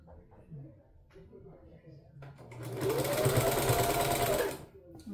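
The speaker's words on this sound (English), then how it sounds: "turn it over, and sew off this other edge" An electric sewing machine stitches along the edge of a skirt in one loud, steady run of about two seconds. A voice talks softly before it starts.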